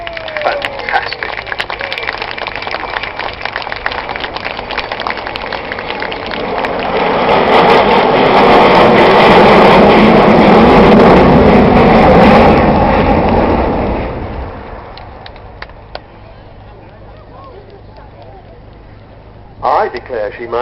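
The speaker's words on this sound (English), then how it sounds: "maybe we'll hear that famous Vulcan howl of the 4 Rolls-Royce Olympus engines" An Avro Vulcan bomber with four Rolls-Royce Olympus engines makes a flypass at Cosford, its broad roar swelling to a peak and then receding. A commentator talks throughout.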